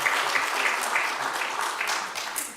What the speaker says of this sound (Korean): Let's give a round of applause to God and thanks.